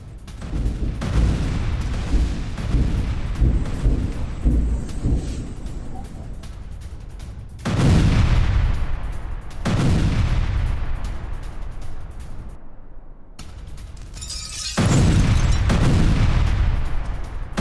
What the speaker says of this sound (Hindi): ये देखिए थर्माइट बम से हमला किया गया